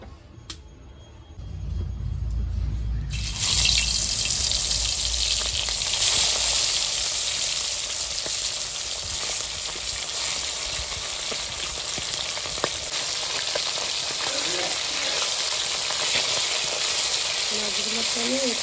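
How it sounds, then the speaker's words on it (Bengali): Tilapia fish frying in hot oil in a wok, a loud, steady sizzle that bursts in after a short quiet start and keeps crackling evenly to the end. "মাছগুলোকে আমি একটু একটু করে ভেজে তুলে নেব"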